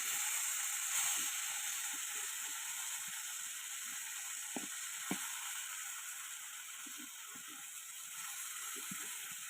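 Large glass carp frying in oil over a village clay stove, a steady close sizzle with scattered faint pops and clicks, continuous and without talk.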